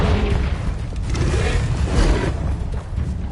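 A Confringo fire spell cast in Hogwarts Legacy, a loud booming blast with a rushing whoosh that sustains for a few seconds, dense low rumble underneath.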